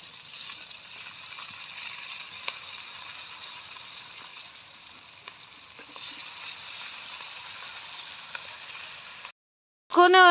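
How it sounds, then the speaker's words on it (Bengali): Vegetables fry in a pot of khichuri with a steady, soft sizzling hiss for most of the stretch. The sound briefly drops out near the end before a short tonal sound cuts in. "সব সবজিগুলো দিয়ে দেওয়া হচ্ছে"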